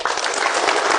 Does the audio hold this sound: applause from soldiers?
yes